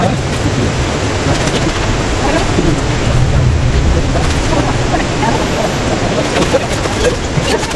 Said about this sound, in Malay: Oh, hujan.